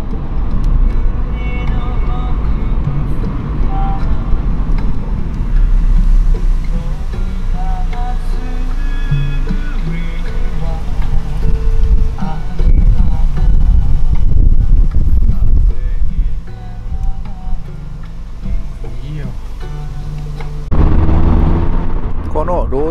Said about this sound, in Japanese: そしてエンジンは回すごとに小さいながらもパワーを絞り出す。